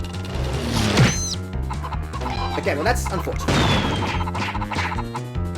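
Chickens cluck repeatedly in the video game Mort the Chicken, with bursts of game music and whacking effects around them, the clucks loud and close while someone briefly talks over the game.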